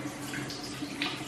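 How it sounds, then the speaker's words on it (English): Tap water runs steadily into a bathroom sink while hands are washed with a facial cleanser, a soft continuous hiss and splatter at close range with no talking. "I get the water on there so we can really lather it up."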